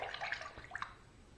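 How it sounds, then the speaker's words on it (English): A razor rinsed under a running tap during a head shave, a brief faint splash and trickle of water with a couple of sharper spatters, heard alone. "the razor is rinsing cleanly, no problem at all"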